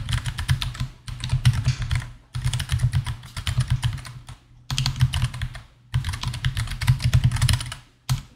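Rapid keystrokes on a computer keyboard come in several bursts of steady clicking typing, separated by short pauses, close and clear with no talking.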